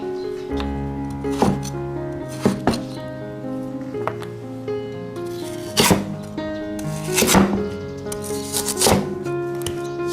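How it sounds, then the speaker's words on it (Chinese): A knife chops cucumber into strips on a board while cooking a dry-pot squid dish, with several sharp cutting strokes spread across the clip over a steady, harmonic background hum. "下面也要黄瓜，给它切成条"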